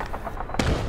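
A single long-range gunshot in the shooter Hell Let Loose lands as a short, dull crack over a constant wash of battlefield noise and hiss.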